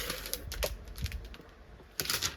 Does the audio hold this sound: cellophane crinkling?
yes